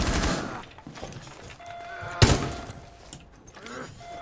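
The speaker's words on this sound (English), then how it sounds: "Throwing flashbang." A flashbang goes off in the Rainbow Six Siege video game, one sharp loud burst standing out from busy in-game noise with scattered thuds and shots around it.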